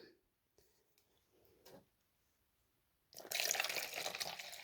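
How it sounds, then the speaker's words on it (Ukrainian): Hot water is poured onto crushed succinic acid tablets, a steady close splashing rush that starts abruptly after a few faint clicks and carries on to the end. "І заливаю гарячою водою."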